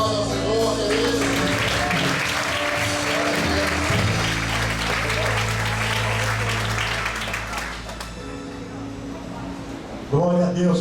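Church congregation applauding during a worship service, a dense sustained wash of clapping over lingering music tones, continuing steadily for most of the stretch before thinning out near the end.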